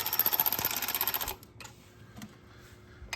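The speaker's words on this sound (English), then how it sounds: "I don't know why on earth we're using an electric ratchet to put those on" An electric ratchet runs in a fast, even burst of clicking whir for just over a second, tightening bolts on a 94 Impala SS, then cuts off, leaving faint shop noise and a few light knocks.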